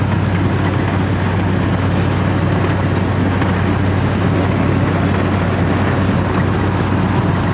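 A 1970s car with an old automatic transmission and an upgraded HEI ignition climbing a hill, heard from inside as a loud, steady engine drone under constant road rumble, with no talking.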